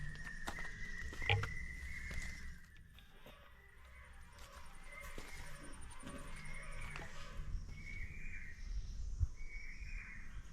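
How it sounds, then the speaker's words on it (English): Forest ambience on a trek near Asirgarh Fort, with insects, frogs and other creatures calling together in a steady, moderately loud chorus and shrill bursts of buzzing that rise and fall throughout. "The sounds of crickets, grasshoppers, and many other unknown creatures can simultaneously evoke fear and curiosity in us"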